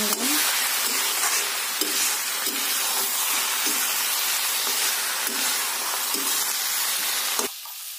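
Potatoes in a hot frying pan, a loud, continuous close sizzle and hiss with faint periodic scraping strokes, which stops abruptly near the end and leaves a quieter background.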